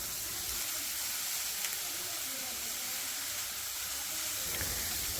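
Onion and scooped-out pointed gourd filling frying in a pan, a steady close hiss and sizzle running throughout with no voices.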